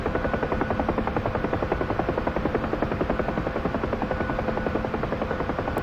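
Bell UH-1H Huey helicopter in the DCS World flight simulator, a steady rhythmic rotor thump over a continuous turbine drone, loud and constant throughout with no talk.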